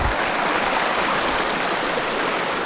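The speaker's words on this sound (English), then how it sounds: "We got a nice little creek right here" A small creek running down from the hills in a Utah canyon near Bryce Canyon gives a steady, close, broadband rush of flowing water, constant and unbroken with no voices.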